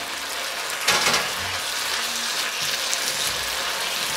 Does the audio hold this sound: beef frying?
yes